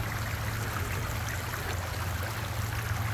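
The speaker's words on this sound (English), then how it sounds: "There's the water coming from my neighborhood." Water rushing through a reconstructed spillway carrying its first flow since rebuilding, a steady, dense roar of flowing water with no pauses or voices.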